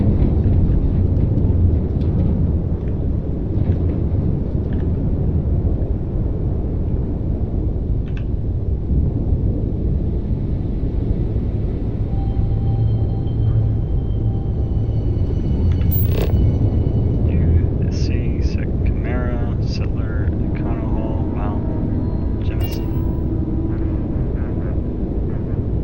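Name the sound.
spaceship landing at New Atlantis in video game Starfield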